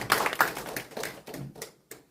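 An audience at a policy debate on the Hwadojin festival applauds its panelists, with dense clapping that starts strong and thins into a few last scattered claps before quiet.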